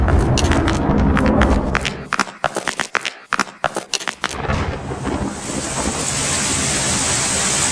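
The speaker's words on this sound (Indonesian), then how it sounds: "Nah, hujan." Rain arriving in an outdoor scene tied to flooding: a run of scattered, sharp taps and thuds gives way to a steady, loud, hissing downpour that fills the rest.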